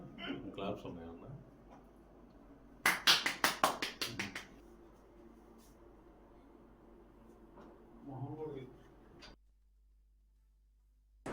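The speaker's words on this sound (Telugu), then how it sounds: "క్లాప్స్ ఉన్నాయన్నా." Brief round of hand clapping from a small audience at a Raj News 2026 calendar launch with a TDP leader, a quick burst of claps between stretches of speech and room noise.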